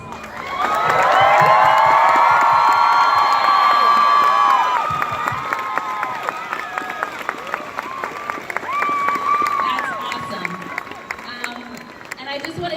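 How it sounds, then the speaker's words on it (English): A crowd at a Halloween town square event cheers and applauds loudly, with whoops and shouts over steady clapping that gradually thins out while voices carry on. "If you could all join us for a big round of applause."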